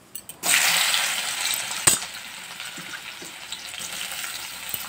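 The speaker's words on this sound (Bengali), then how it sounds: "উচ্ছে ভাজা করব।" Bitter gourd drops into hot oil in a wok and breaks into a bright, hissing sizzle that settles into a steady, softer frying with a sharp spatter partway through.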